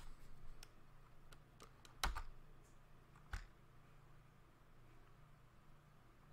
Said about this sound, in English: So next we're going to type